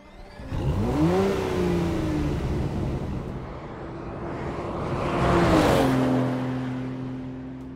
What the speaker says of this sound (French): un V12 5 litres de biturbo développant pas moins de 608 chevaux